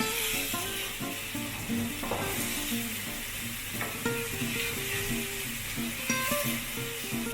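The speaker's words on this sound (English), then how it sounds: "Saute them in medium heat." Corned beef masala ingredients sautéing in a pan over medium heat, a continuous close sizzle with occasional stirring scrapes and a faint clink of cookware, no talk.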